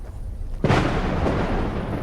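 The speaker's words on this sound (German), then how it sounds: "Ich habe vergessen zu zählen. Vom Blitz bis zum Donner." Thunder in the video game The Alien Cube: a sudden loud crack breaks a quiet background, then a broad, rolling rumble sustains steadily to the end.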